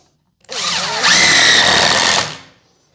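Power drill driving screws into scrap wood while assembling a bow caddy: a close, loud motor whine lasting about two seconds, rising in pitch as the screw bites and then winding down, with no talk.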